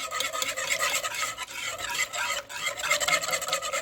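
Sour cream being stirred into enchilada sauce with a spoon, a close, rough scraping and rubbing sound in uneven repeated strokes, busy and continuous with brief pauses between passes.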